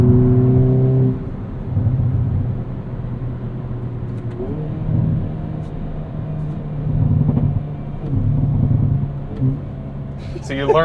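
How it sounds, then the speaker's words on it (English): A 2022 Hyundai Kona N engine drones and rumbles with rising and falling revs and exhaust noise, heard from inside the car, with a voice talking over it. "So you learned exactly how to make the most exhaust noise."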